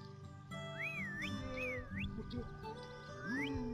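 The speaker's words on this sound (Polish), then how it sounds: "Muszę więcej gwizdać" Whistling in The Last Tinker video game, a few rising and wavering whistled notes over a steady background music bed, no talk.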